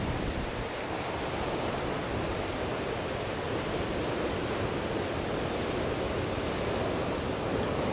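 Ocean surf rolling onto a beach at Étang-Salé, Réunion, a continuous broad roar of breaking waves, steady and fairly close, with no voices.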